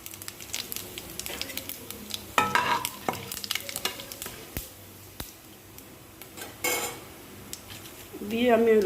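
Dry red chillies, cardamom, cinnamon, bay leaf and cumin frying in a pan make an irregular sizzle and crackle under scraping spoon strokes and clinks of cookware. Louder spatters burst now and then, with no talking.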